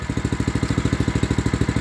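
A brand new Honda engine drives a Power Fist water pump, running at a steady, fast idle with a regular thumping pulse. It is loud and close, with no talk over it.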